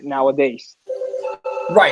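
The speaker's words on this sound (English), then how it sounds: "So excuse the phone" A telephone rings in a busy office, steady electronic ring tones sounding under and between a person's speech, moderately loud and fairly close.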